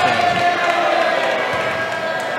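At a high school varsity boys basketball game, a gym crowd roars loudly and steadily, the dense cheering filling the space with a faint bounce and shuffle beneath it.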